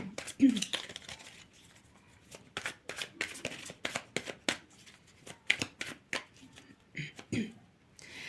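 Playing cards being handled and shuffled in the hands for a reading, quick soft riffling and slapping bursts repeating in an irregular rhythm close by, with quiet movements and a brief voice between them.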